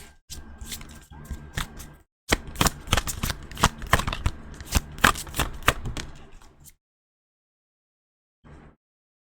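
Tarot cards being shuffled by hand, close and crisp, with a steady riffling flutter that pauses briefly, resumes more vigorously for several seconds, then stops, followed by one short final shuffle.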